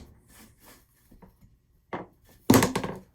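Hammer striking wood in a school wood shop while making a bench hook: a few soft taps and knocks, then a sharper single thunk followed by a louder cluster of hard wooden blows near the end.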